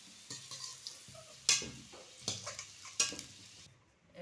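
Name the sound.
lifting fried potatoes out of the pan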